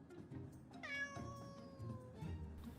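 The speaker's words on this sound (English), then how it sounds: "Why on earth have you brought that cat?" A cat gives one clear, sustained meow with a falling pitch, close and moderately loud, set against quiet low-frequency room noise.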